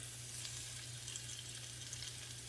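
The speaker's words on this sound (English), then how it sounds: "we're gonna put them in one at a time in the skillet because it's hot" Six lamb chops sizzling together in a hot skillet, a faint steady hiss of frying heard at a distance over a low background hum, with no talking.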